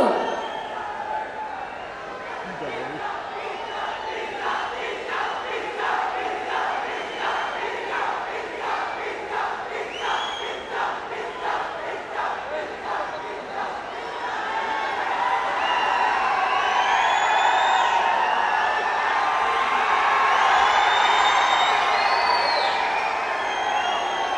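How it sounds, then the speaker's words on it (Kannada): At a producer's birthday event in Mysuru, a large crowd claps and chants in a rhythmic pulse as the chief minister arrives, then breaks into louder, sustained cheering and whooping. "ಬನ್ನಿ ಜೋರ್ ಚಪ್ಪಾಳೆ ಮೈಸೂರು."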